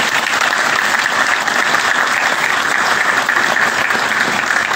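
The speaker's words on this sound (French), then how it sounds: "j'aimerais qu'on puisse applaudir pour nous-mêmes parce que nous avons trouvé un consensus dans la résolution de cette crise" A large audience applauds steadily after a speech by Guinea's Prime Minister Bernard Goumou on resolving a football crisis. The clapping is loud, dense and continuous throughout, with no voice above it.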